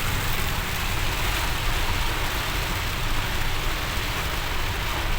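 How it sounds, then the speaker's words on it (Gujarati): Heavy rain pours steadily onto a road in Ahmedabad's Shela area, a dense, continuous wash of hissing downpour that fills the whole stretch with no voices. "એટલો ધોધમાર વરસાદ આવી રહ્યો છે."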